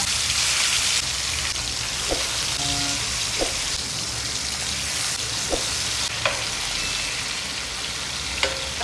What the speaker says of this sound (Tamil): மீனை வறுப்போம் இது ஆரட்டும் கடலை எண்ணெய் நான் கடலை எண்ணெய்